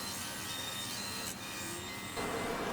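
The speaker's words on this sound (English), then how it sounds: "Then started cutting out the pieces on the scroll saw." A scroll saw fitted with a fine blade cuts small intarsia pieces of holly, yellowheart, padauk, blue pine and ebony, giving a continuous loud buzzing whine that shifts in tone partway through, with no voices.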